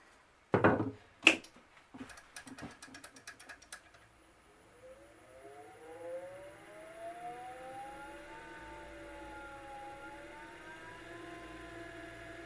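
A Bauer 14x20 EVS wood lathe gives a few sharp mechanical clunks and a brief rattle, then its motor spins up into a rising, steady whine that holds at a moderate level.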